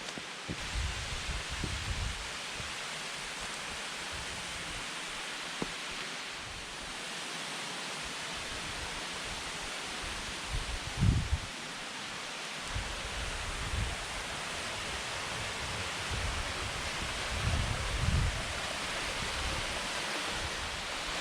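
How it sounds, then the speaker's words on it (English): Constant broadband rush of falling water from Shiraito waterfall near Fukuchiyama, Japan, steady and moderately distant, with occasional low thumps and rustles over it. "I can hear a waterfall."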